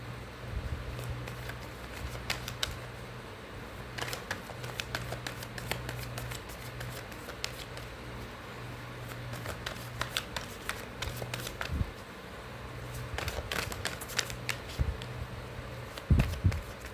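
Tarot cards are shuffled by hand in quick bursts of crisp riffling and soft slapping, close and fairly quiet, with brief pauses between rounds.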